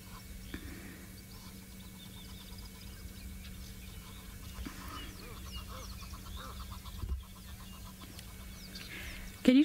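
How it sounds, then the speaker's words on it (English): A pair of Egyptian geese honking beside a small natural pool outdoors, faint rasping calls that repeat at a distance over steady background noise, growing louder at the very end. "So this is a pair of Egyptian geese. You cannot escape the noise. It's very noisy"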